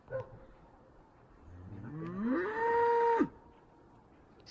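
Dairy cows on a Michoacán hillside; one cow lets out a single long moo, close by, that rises in pitch, holds, then cuts off abruptly with little else around it.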